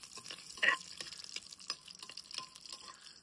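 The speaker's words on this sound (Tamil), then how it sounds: "நீட்டு மிளகா போட்டு முதல்ல வறுக்கிறேன்." Long dried red chillies sizzle and crackle faintly in hot oil in a country kitchen, with soft stirring scrapes and small pops throughout.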